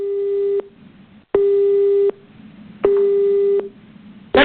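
A telephone busy signal sounds after a call fails to connect: three loud, evenly spaced tone bursts with short silent gaps between them.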